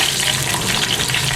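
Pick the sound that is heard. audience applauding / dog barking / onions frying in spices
onions frying in spices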